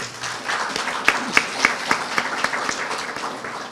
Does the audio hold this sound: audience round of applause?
yes